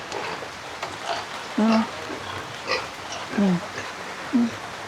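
Piglets bought for a small backyard farm among close-packed village houses grunt and oink in short separate bursts, a few brief calls over a noisy, rain-like background.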